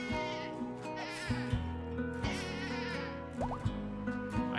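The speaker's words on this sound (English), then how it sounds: "That was the sound of sheep having a good fun time" Sheep bleat in a video game, several wavering, nasal calls overlapping across a few seconds, fairly quiet and with no talking over them.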